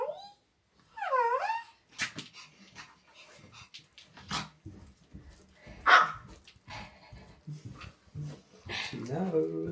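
A dog whines, whimpers and gives short barks and yelps at close range, mixed in with people talking during an autumn morning at home.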